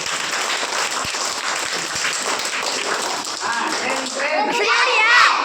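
A room of children clapping together, a continuous busy patter of small hands with scattered kid voices and chatter rising toward the end.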